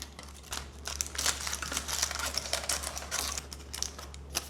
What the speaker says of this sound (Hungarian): most levágom itt a felesleges papírt